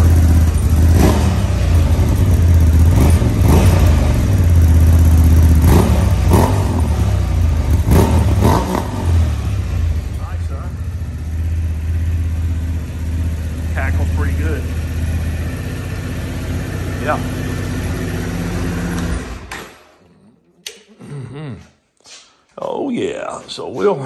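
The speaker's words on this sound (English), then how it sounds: "they wanted a sound test of the muffler" A Honda Transalp XL750R motorcycle engine is heard up close, blipped through several sharp revs before settling into a steady idle, then shutting off toward the end. A voice speaks briefly over the idle.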